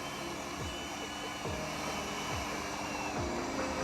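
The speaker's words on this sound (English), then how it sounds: "What is going on with the heat gun? Don't sound happy, does it?" A heat gun runs during front grille work on a 2024 Ford Transit Custom, with a generator nearby, giving a continuous airy blowing roar and faint recurring chirps, close and steady.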